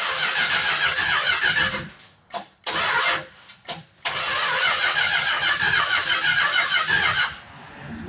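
A 1969 Plymouth Road Runner engine, first started in over 23 years, cranks with a fast, whirring starter, stalls briefly twice, then cranks and roars loudly again, close by.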